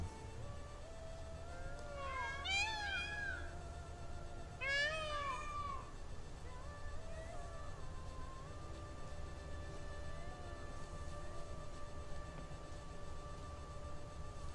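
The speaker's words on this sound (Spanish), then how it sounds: "¿Qué es este puto ruido, tío? Un gato de mierda." A cat gives two drawn-out, wavering meows a few seconds apart over a steady low hum, then quieter tonal sounds continue without any talking.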